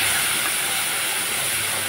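Masala paste hits a hot pan holding fried potato and taro, a loud, dense, continuous hissing sizzle with no pauses, steady throughout.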